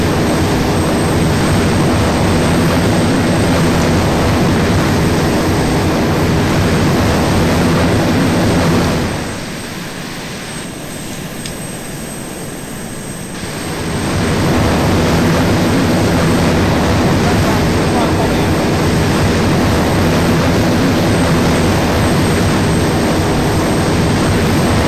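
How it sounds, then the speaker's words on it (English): A Harrier jet plane in the ARMA 2 video game flies with a loud continuous engine roar that dips briefly midway and then returns at full strength. "I'm already at 200 miles an hour. That's because your plane is so much lighter."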